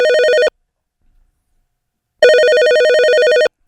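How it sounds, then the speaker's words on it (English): An electronic phone ring trills loudly, falls silent for a moment, then rings again in a long burst before cutting off. "Could someone answer the freaking phone, please?"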